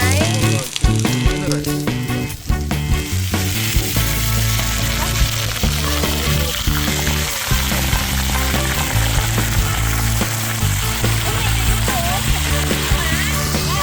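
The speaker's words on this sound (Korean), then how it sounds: "일단 코다리 살짝 튀기겠습니다" Loud, steady sizzling of dried pollack frying in hot oil, continuous throughout with occasional clatter of utensils and a voice in the background.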